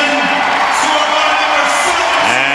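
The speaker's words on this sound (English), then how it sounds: "Listen to the crowd get back into it." Hockey arena crowd at a New York Rangers versus Edmonton Oilers game, a loud, dense roar of cheering and whoops that holds steady throughout.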